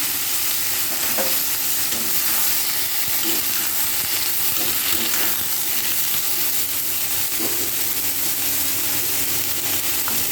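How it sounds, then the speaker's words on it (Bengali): Potato, pointed gourd and ridge gourd frying together in a pan, a loud dense continuous sizzle with occasional faint stirring scrapes, close and steady throughout, no speech. "এরপর আমি আলু পটল আর ঝিঙেগুলোকে দিয়ে একসাথে ভেজে নেব।"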